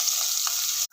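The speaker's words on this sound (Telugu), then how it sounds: "పచ్చిమిర్చి వేస్తున్నాను" Chopped green chillies are dropped into hot oil already frying garlic, a loud, close, hissing sizzle that holds steady for under a second and then cuts off.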